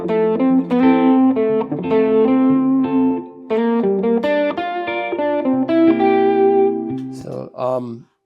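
An electric guitar with effects plays a melodic solo of phrased single notes and bends over a jazz blues progression, loud and close, with reverb tails between phrases.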